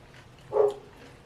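A single short dog bark sounds once, moderately close, against a quiet background.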